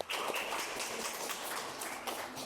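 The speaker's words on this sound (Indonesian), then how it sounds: "kita kasih aplaus untuk kelompok pertama" Applause for the first group in a classroom teaching session: a steady, dense patter of many hands clapping, fairly close and sustained throughout without any talk.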